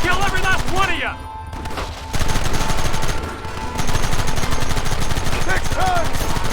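Rapid gunfire from the Red Dead Redemption video game, a dense continuous rattle of shots that dips briefly in the middle, played over music and game sounds.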